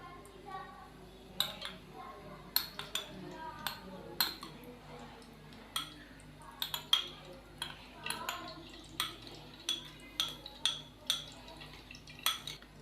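Metal utensils clink sharply and repeatedly against a pot while half a cup of desi ghee goes in for sweet jaggery vermicelli, a steady run of bright close taps over quiet kitchen background.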